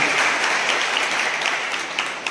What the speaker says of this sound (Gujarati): આપણે જોરદાર તાળીઓથી તેમને સન્માનિત કરીશું